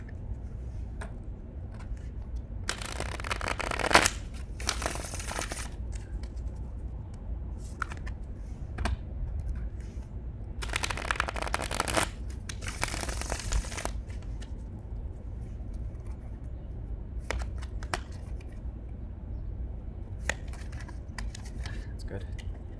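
Hermetic Tarot cards are shuffled in several separate bursts of riffling, flapping clatter, each lasting a second or two, with quieter gaps and faint handling in between.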